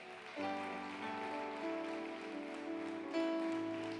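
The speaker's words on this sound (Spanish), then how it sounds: "Denle un fuerte aplauso a mi Señor." Loud congregation applause fills a church service, a dense steady clapping wash that swells once more near the end, with sustained keyboard chords ringing underneath.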